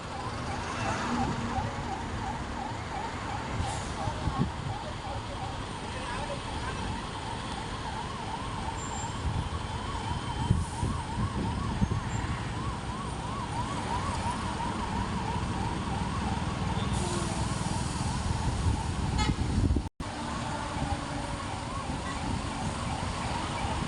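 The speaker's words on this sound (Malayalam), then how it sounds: "ആംബുലൻസ് പോലും ബ്ലോക്കായി നിൽക്കുകയാണ്." An ambulance siren wails steadily in a slow highway traffic jam about 7 km long, its regular rising-and-falling tone running continuously over dense road and engine noise.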